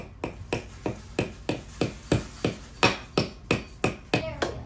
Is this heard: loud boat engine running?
no